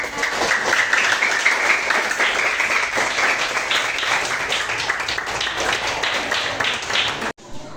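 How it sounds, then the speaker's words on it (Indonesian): Schoolchildren clapping in an elementary school classroom, a lively uneven patter of many small hands that holds for several seconds, then cuts off abruptly. "Tepuk tangan untuk semuanya."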